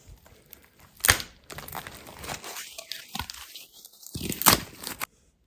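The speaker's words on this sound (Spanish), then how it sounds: "Fijaros cómo cruje ahí, ¿veis? Lo tierno que está este maíz" Fresh, very tender green corn being crunched for Paraguayan chipa guasu, giving a few crisp, close crackling bursts with quieter rustling between them and no talking.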